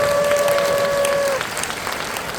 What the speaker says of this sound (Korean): 자, 하실 분 박수!